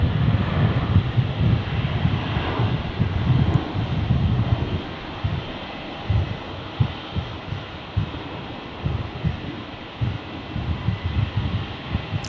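A Jetstar airliner rolls for takeoff at Brisbane Airport, its engines a steady, broad low roar that holds loud throughout, with a throbbing low-frequency rumble pulsing through the later seconds.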